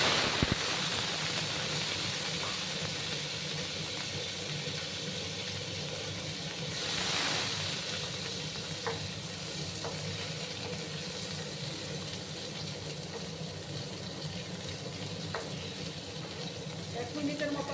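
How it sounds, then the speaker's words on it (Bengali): Raw mango pieces fry in hot oil with black mustard seeds in a pan, a steady broad hiss and sizzle that holds throughout with a brief swell partway through. "আমি আমগুলোকে একটু ভেজে নেব"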